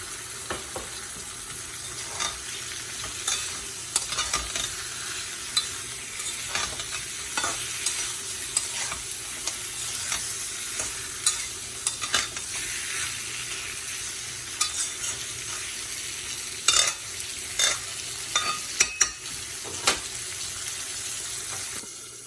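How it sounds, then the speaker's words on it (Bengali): Hilsa fish head frying in a pan of cooked-down spice paste with coriander powder, a steady soft sizzle under repeated scraping stirs and occasional clinks, with no talking. "মশলাটা আমার কষানো হয়ে গেছে, আমি দিচ্ছি এর মধ্যে ইলিশ মাছের মাথাটা।"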